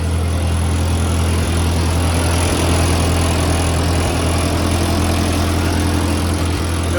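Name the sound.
old Ford 8N tractor engine running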